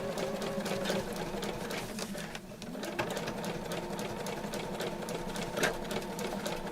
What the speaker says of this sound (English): drop your foot, drop your needle, hold on to your thread, and off we go